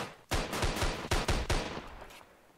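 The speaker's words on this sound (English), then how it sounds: "Cops are just shooting random" Gunfire from police in the Roblox game Framed: a rapid burst of loud, close shots in quick clusters, several bangs in a row with brief gaps, then trailing off.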